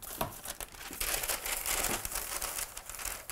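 Parchment paper being handled and cut to line a baking pan, crinkling and crumpling steadily for a few seconds, close and fairly loud with sharp rustling bursts and no talk.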